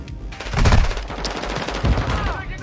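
Rapid bursts of video game gunfire from a weapon players call a shotgun crackle loudly and repeatedly through the clip, with a few heavier blasts standing out.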